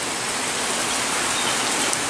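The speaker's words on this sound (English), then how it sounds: "It's not a downpour, but it's a steady rain. Steady light rain." Steady light rain falling without pause, an even, close hiss of countless small drops on surfaces with no thunder or voices.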